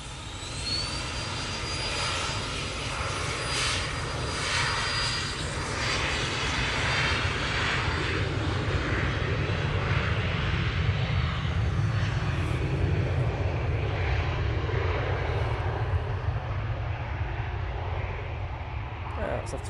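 Business jet engines at Manchester Airport produce a steady, loud broadband roar with a high whine, continuous for the whole stretch, while a person talks over it.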